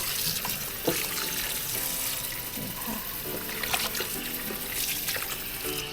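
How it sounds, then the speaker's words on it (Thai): Running water splashes steadily over salted vegetables being rinsed for kimchi in a sink, a continuous close tap flow with small clatters of produce and hands moving through it. "ล้างเอาความเค็มมันออก"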